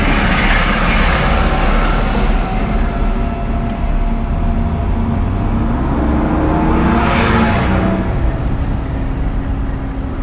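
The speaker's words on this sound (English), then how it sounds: "since the convertible is down, there's a lot of wind going on" Heavy wind roars around an open 2021 Mercedes-Benz E450 convertible driving with the top down, a loud continuous rush with swelling gusts over the low road and engine rumble.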